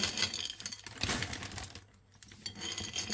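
Hard, crisp pieces of candied watermelon peel rattle and clink together in quick irregular bursts, close by, with a brief lull midway.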